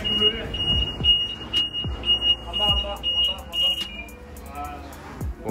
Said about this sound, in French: Ah putain, c'est l'alarme.